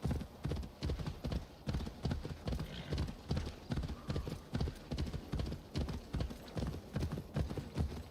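Steady clip-clop of horse hooves in Assassin's Creed Valhalla at a brisk, regular gallop, close and clear, with a brief whinny partway through.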